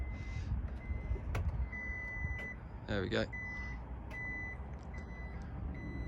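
A Toyota Vellfire MPV gives a series of short, evenly spaced electronic beeps as its power doors operate, heard close by with a brief spoken remark over them.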